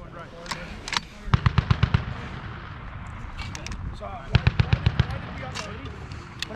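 A US Army M2 .50 caliber machine gun firing on a range, two loud rhythmic bursts of about half a dozen heavy booming shots each, plus scattered distant fire and voices talking throughout.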